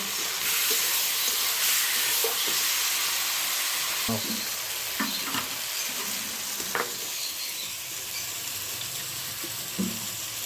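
Vegetables for a potato and pointed gourd curry frying on a hot, strongly burning stove: a steady loud sizzle with repeated scraping stirs and clinks of the spatula throughout.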